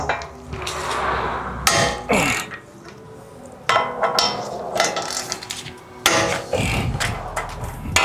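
A 19 mm ratcheting socket loosens the front brake caliper bolts on a 2010–2024 Toyota 4Runner 4.0L V6, with close, loud metallic clanks, knocks and scraping bursts coming at irregular intervals.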